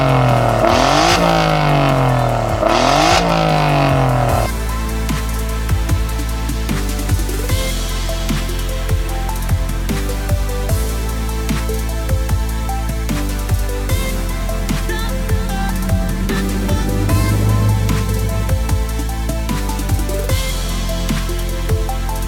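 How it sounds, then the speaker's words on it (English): An Alfa Romeo 4C at an owners' meeting in Interlaken roars loudly, revving hard at first, then settling into a sustained throaty drone with repeated throttle blips and further engine noise, close and alone. "now, after we heard something about the car, let's hear the car. Let it roar."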